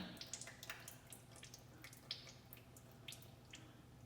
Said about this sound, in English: Just let her drip out.